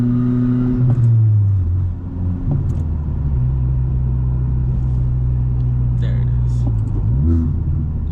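A 2021 Honda Civic Type R engine rumbles steadily from inside the cabin as the car slows toward a stop sign, with a couple of pitch drops as it downshifts; the drone stays loud and continuous throughout.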